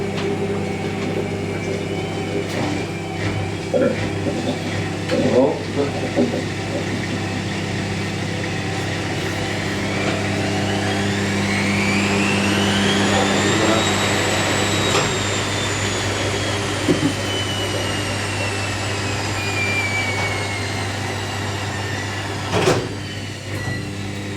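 An Indesit WIDL102 washer dryer on its final spin at 1000 RPM, a steady mechanical hum with a whine that rises and then falls away in pitch, broken by a few sharp knocks, with no talk.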